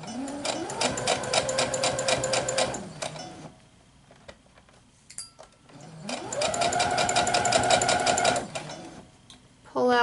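A sewing machine stitching quilting fabric runs in two loud, steady bursts of rapid mechanical chatter, separated by a quiet pause with faint handling noises, then starting again up close.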